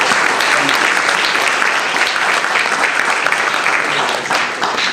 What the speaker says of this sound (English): So can you give them another round of applause as we offer this?